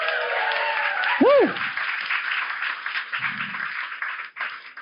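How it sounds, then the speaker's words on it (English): Live audience at a comedy-style show in Melbourne applauding steadily throughout, with a loud whoop rising near the start and scattered cheers, fairly close and full. "Round of applause"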